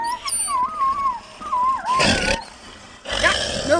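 A dog-like monster in a comedic horror audio drama growls and snarls in loud, rough bursts, broken by high whining, yelping calls in between.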